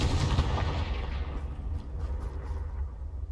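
A Confringo blasting spell goes off in Hogwarts Legacy, a loud, sustained rumbling burst of explosive noise that stays dense and heavy for several seconds before thinning slightly, with no talking.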